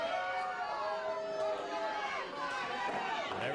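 Wrestling crowd at an independent Canadian show voicing disapproval, a continuous loud mass of jeers and shouting that swells and dips slightly throughout without a break.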